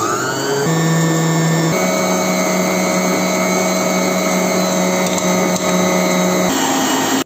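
An electric mixer whirs steadily while whipping mascarpone cream with powdered sugar, caramel and pralines, a loud, close motor hum whose pitch shifts slightly a few times before it cuts off.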